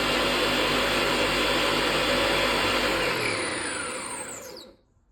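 Ninja Foodi Power Nutri Blender 3 in 1 running, a loud, steady high-pitched motor whir that holds for several seconds, then winds down and falls silent.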